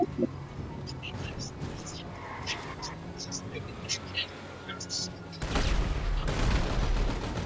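Drive-by gunfire in GTA 5: bursts of shots crackle from a moving car under steady engine noise, ending in a louder rush of blasts, while people talk over the action.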